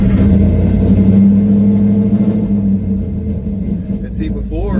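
A truck's rebuilt 351W V8 with Flo Tec 185cc heads runs loud and close, with a steady rumbling idle and rough, lumpy pulsing, while a voice talks over it near the end.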